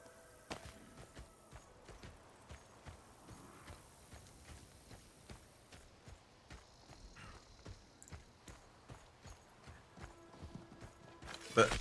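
Horse hooves walking in the Diablo 4 game, a quiet, regular clip-clop of steps running throughout, with faint game sounds and people talking over it.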